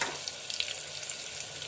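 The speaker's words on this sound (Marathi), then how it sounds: "थोडीशी हळद टाकूया" Turmeric dropped into hot oil for a Marathi dal tempering, giving a steady close hiss of frying with faint crackles and no voice.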